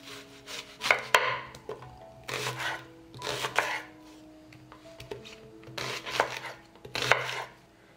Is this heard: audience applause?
no